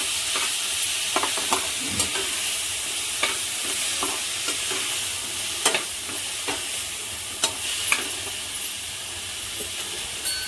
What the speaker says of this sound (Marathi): याच्यामध्ये कारले टाकायचे कारले पण छान मिक्स करून घ्यायचे